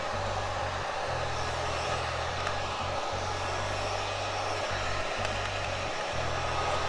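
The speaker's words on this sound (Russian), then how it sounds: "немножко вертикально нужно держать фен" A hair dryer blows steadily with a low motor hum over alcohol ink on an epoxy tabletop, briefly cutting out and restarting several times; no one speaks.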